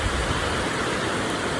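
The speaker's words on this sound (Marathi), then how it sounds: "बापरे, खतरनाक पाऊस आहे बघा." Heavy monsoon rain pours steadily in Rajapur in the Konkan region, a dense, loud, unbroken hiss of rainfall with no break and no voices.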